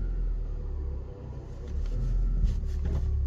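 A 2015 Honda Civic Si running and pulling away after a rear brake pad job, a steady low engine rumble heard from close by that dips briefly and then builds as the car drives, with no talking.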